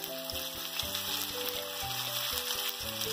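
Chapli-style flat reshmi kebabs frying in oil over a low flame, a steady close sizzle running throughout beneath faint background music, with no voices.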